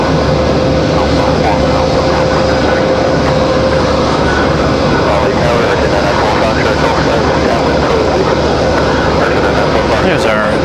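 An ATR 600 turboprop airliner at Raleigh-Durham airport makes a steady, loud engine drone with a sustained tone early on, heard near and continuous, with a voice talking over it.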